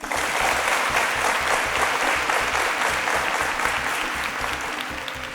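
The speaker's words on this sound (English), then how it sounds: "A round of applause for John." Applause for John from an audience at a Nigerian televised quiz show, a steady, moderately loud patter of many hands clapping, sustained without pause and tapering slightly at the end.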